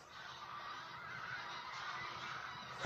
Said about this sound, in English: Geese. I think that's the same geese that were in the field